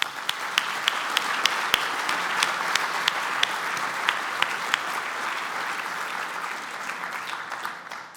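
Sustained applause from an audience at a chamber of commerce annual dinner, a dense, steady crowd of clapping hands with a few sharper claps standing out, holding at even loudness throughout.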